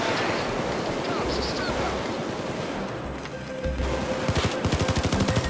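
Gunfire in Payday 2 while under sniper attack, a dense chaotic clatter of shots running throughout and ending in a rapid burst of evenly spaced automatic fire, with a voice faintly mixed in.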